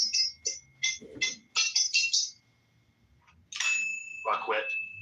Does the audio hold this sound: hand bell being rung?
yes